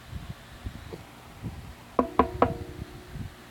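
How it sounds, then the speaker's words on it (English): Three light knocks on a door to room 117 in the visual novel Katawa Shoujo 2, crisp and close, evenly spaced after a quiet stretch of faint background sounds. "so I knock lightly"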